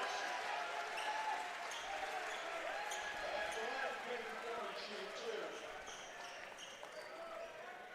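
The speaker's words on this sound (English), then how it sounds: "Nice round of applause." Applause from a high school basketball crowd in a gym during an NJSIAA Non-Public South A quarterfinal between the Hermits and Bishop Eustace, a steady broad patter of clapping that tapers slightly toward the end.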